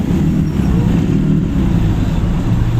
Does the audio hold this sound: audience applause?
no